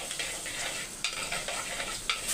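Small onions fry in hot sesame oil, giving a close, steady sizzle broken by stirring scrapes and a few sharp clinks of the utensil, with no talk.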